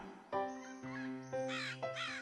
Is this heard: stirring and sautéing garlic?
no